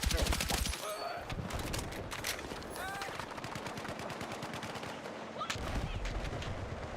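Mortar and gunfire in a Battlefield 6 match, a continuous barrage of rapid shots and heavy impacts, with loud booms at the start and near the end over a constant battle din.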